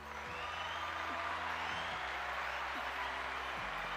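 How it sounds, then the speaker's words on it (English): A prerecorded applause sound effect plays from a Zoom PodTrak P4 podcast recorder, a faint, steady wash of crowd clapping under a low tonal hum, continuous throughout. "different sound effects that I've already pre-programmed, including applause that just continues until I decide to turn it off"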